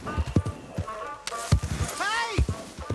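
Horse hooves clip-clopping in the video game Red Dead Redemption 2, a few scattered hoof thuds heard close up amid speech and game ambience.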